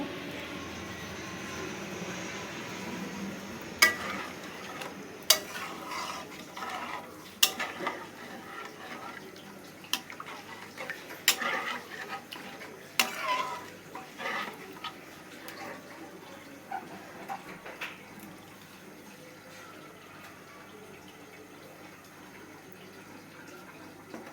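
Water is poured into a simmering egg curry, a pouring and splashing sound broken by several sharp clinks and knocks that thin out toward the end, with no voices.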